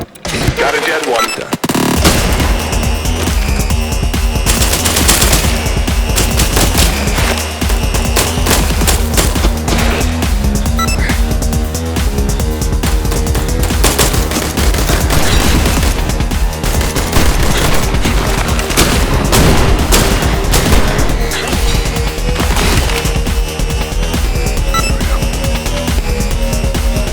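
Assault rifle fire pounds continuously in the video game I Am Your Beast, a loud, dense barrage of rapid shots and booms lasting the whole stretch after a brief quiet start.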